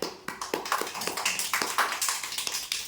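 Small hands clap in a lively, slightly uneven rhythm as a group of children claps together, the overlapping claps close and moderately loud, with no voices over them.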